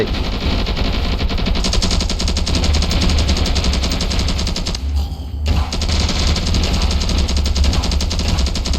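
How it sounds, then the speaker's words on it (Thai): LMG machine gun in the Ravenfield video game firing long, rapid continuous bursts, loud and close, with a short pause midway before the automatic fire resumes. "โอ้ยหน่วยปืนกล LMG ไป"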